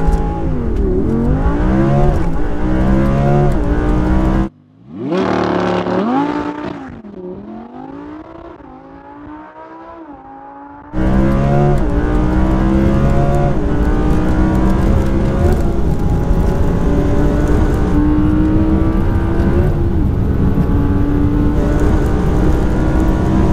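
A 610 bhp Audi R8 V10+ with an automatic gearbox launches on a drag run. Its loud engine revs climb steeply through repeated gear changes, drop away briefly, then roar back to a sustained, close high-rev howl with no talking.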